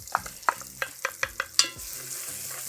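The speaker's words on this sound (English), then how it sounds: "Now you want to cook the rawness off the garlic about a minute" Garlic and shallots sauté in an enameled cast iron Dutch oven for pot roast: about eight quick, rhythmic spoon scrapes over a sizzle, which then continues on its own, close and with no speech.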